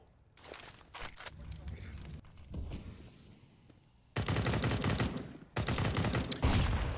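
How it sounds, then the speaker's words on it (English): Gunfire in a CS:GO esports match on the Mirage map, with scattered shots early and then two loud sustained bursts of rapid fire fired through smoke, heard under a commentator's voice. "Amanek fires off bullets through the smoke"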